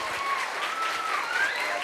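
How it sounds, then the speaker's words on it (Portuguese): A church congregation at a Christmas service claps loudly and continuously, dense applause filling the room while a faint sustained tone runs beneath it. "eu queria convidar você a dar um forte aplauso ao Senhor por essas vidas"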